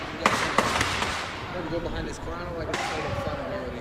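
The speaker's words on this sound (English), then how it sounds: "It might just be firecrackers." Firecrackers pop at a street protest: two sharp bangs near the start and another burst later, over a dense roar of crowd noise and voices.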